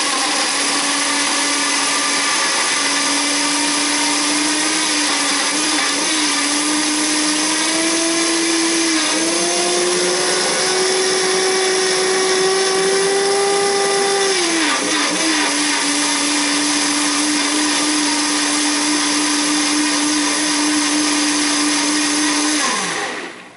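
A Waring commercial-grade Extreme blender runs loud and steady, whirring through a strawberry, banana and kale smoothie with whole milk, its motor pitch rising and dipping midway before stopping abruptly.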